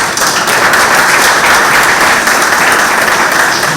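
Audience applause for a pageant runner-up at a Miss South Mature Pageant 20th anniversary celebration on International Women's Day: a dense, steady round of clapping that stays loud and even from start to finish.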